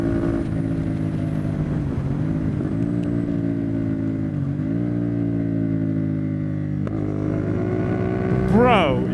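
A CFMOTO 450SS motorcycle with a Yoshimura slip-on exhaust drones steadily then winds down in pitch as it decelerates, with slight rev changes and a voice briefly near the end.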